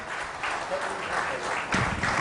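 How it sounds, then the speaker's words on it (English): An audience at a smart city summit presentation claps in a steady, moderately loud round of applause that swells slightly near the end. "A round of applause for"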